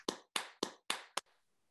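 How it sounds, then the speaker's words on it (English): Five sharp, evenly spaced handclaps from a lone person at a virtual celebration honouring Dr. Fergus, close and fairly quiet, fading into near silence. "Let's give Dr. Fergus a round of applause."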